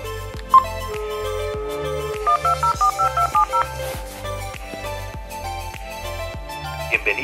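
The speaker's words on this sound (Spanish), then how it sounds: "Tú marcas el teléfono de Portal en Línea y si te sabes la extensión del negocio." A telephone keypad dials a business extension, a quick run of about eight evenly spaced DTMF tone beeps following an earlier single tone, with a repeating low rhythmic pulse underneath.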